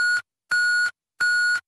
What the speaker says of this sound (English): Message after the beep.